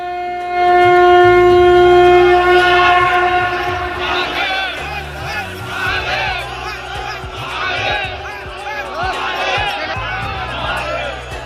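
Vast crowd of pilgrims at the Maha Kumbh in Prayagraj, a dense roar of many voices beneath a loud, sustained horn-like tone that swells early and then settles into the murmur.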